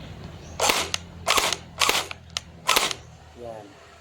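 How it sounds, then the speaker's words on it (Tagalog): An ARP9 airsoft gun upgraded with metal gears and an M100 spring fires four sharp semi-automatic single shots, each a crisp close snap spaced roughly half a second to a second apart. "Pakinggan niyo po yung single shot niya or semi."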